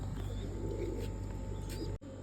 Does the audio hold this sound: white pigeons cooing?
yes